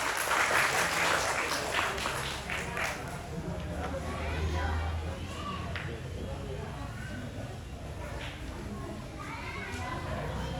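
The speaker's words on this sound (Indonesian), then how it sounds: "beri tepuk tangan yang meriah untuk Kak Laras" Applause for a judge at a dance studio grading exam, scattered clapping mixed with voices and children's chatter in a lively hall, moderately loud and continuous.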